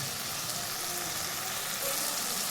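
Spice masala with tomatoes frying in oil for a kabuli chana curry, an even, dense crackling sizzle held close and steady throughout, with no voices.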